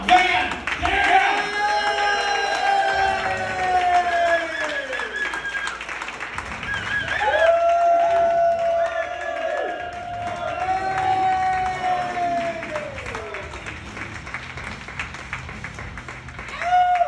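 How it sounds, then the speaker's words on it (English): Comedy club audience at the Wiseguys in Las Vegas applauds and cheers for a performer, a loud sustained wash of clapping and crowd noise with someone talking over it throughout. "Hey, thanks for clapping for me."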